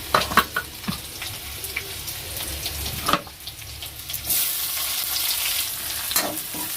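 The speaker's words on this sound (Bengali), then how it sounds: "পেঁয়াজটা একটু ভাজা হয়ে যাক" Onions fry in a cooking pan with a close, hissing sizzle, broken by several sharp clatters and scrapes of stirring, growing denser and steadier toward the end.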